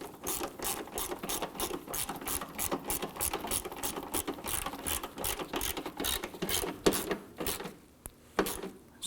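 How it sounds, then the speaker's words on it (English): A ratchet tightens the lower hood hinge bolt on a 2015-2020 Ford F-150, a rapid run of sharp mechanical clicks in bursts, close up, then slowing to a few last clicks. "we'll go ahead and tighten down the lower bolt"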